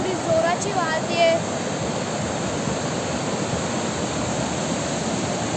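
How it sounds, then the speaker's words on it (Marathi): A strongly flowing mountain river near Manali gives a steady, loud broadband rush that continues unchanged, with a brief voice near the start. "नदी एवढी जोराची वाहते"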